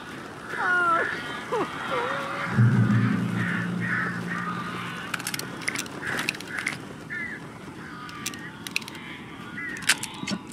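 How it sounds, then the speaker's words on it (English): Crows cawing in Alan Wake Remastered, a video game, come as scattered harsh calls over a low mechanical hum and rumble, with several sharp clicks late in the scene. "These birds are weird."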